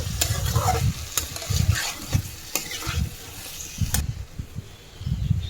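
Hilsa fish and arum curry is stirred and fried in a pan, giving a close sizzle broken by repeated scraping strokes of the spatula and sharp clicks against the pan, with no talk.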